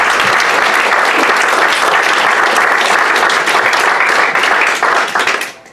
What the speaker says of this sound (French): Je propose de les applaudir